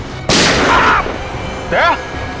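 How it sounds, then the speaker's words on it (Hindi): A single loud gunshot cracks out suddenly and echoes briefly, followed by short bursts of voices. "सर गोली चली है।"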